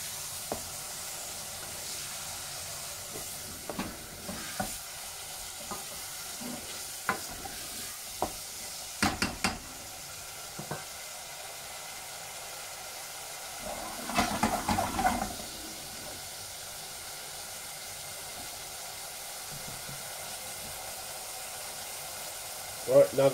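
Beef mince browns in a pan, releasing fat as it cooks. A faint, low hiss of sizzling runs under scattered scrapes and clacks of stirring, with a few louder bursts of movement.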